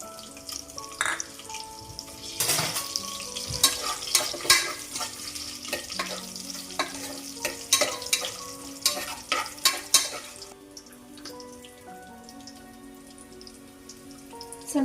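Cashews frying in hot oil and ghee for a mushroom biryani, a busy crackling sizzle with stirring scrapes and clinks, louder bursts in the middle before settling to a softer fry; no one talks.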